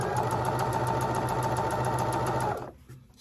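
A sewing machine runs steadily at close range for about two and a half seconds, stitching fabric for a mermaid prom dress, then cuts off abruptly, leaving a quiet pause.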